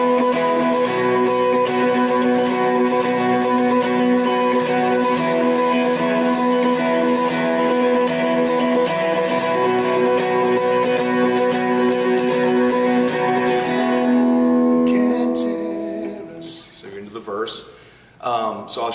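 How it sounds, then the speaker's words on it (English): Distorted electric guitar plays the intro to a song with high power chords, sustained and loud for about fifteen seconds before ringing out into a few scattered strums. "the intro sounds like this with the high power chords"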